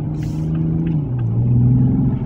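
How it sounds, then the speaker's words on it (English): Engine of a 2020 Toyota Supra with its factory exhaust, a steady deep rumble from inside the car that swells and shifts pitch as it revs, loud and continuous with no talk. "Hear that engine?"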